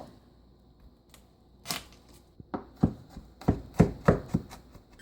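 A knife chops potatoes into slivers on a cutting board, a steady series of sharp, close thuds that grow more regular toward the end.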